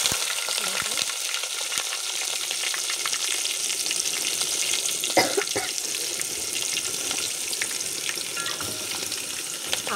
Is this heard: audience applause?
no